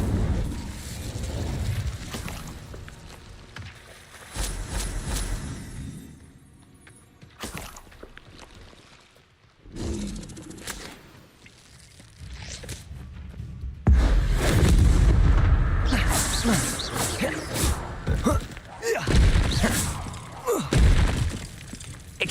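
Fire spells cast in Hogwarts Legacy, the Incendio spell among them, come as repeated loud whooshing, crackling bursts and booming impacts. The sound is dense, with a quieter stretch in the middle before a heavy, sustained burst.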